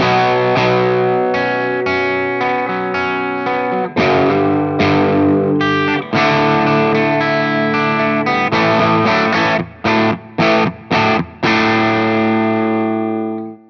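Distorted electric guitar plays a bluesy riff, with loud, chugging chords and bends, then ends in a run of sharp, stabbing stops, close and alone.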